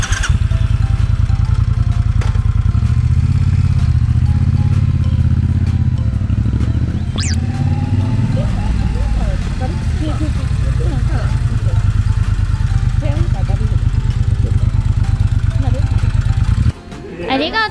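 Motorcycle engine rumbling steadily as it rides off over a long stretch, loud and close with a low throbbing drone, while people talk nearby before it cuts out near the end.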